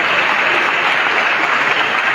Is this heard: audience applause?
yes